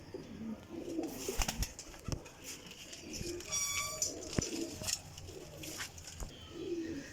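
Pigeon coos from high-class flying pigeons come through in soft repeated bursts over a faint background, with a few brief chirps and clicks scattered between them.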